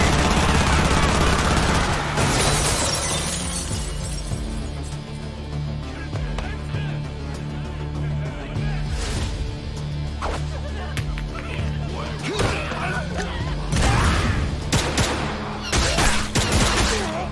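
Bursts of rapid gunfire and volleys in the anime Cyberpunk Edgerunners, loud sharp cracks recurring in clusters over a pulsing music bed, with a brief laugh mixed in.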